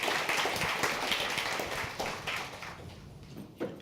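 Audience applause after congratulations at a New York food supply talk, a dense steady wash of many hands clapping that thins toward the end, with a few louder claps near the close.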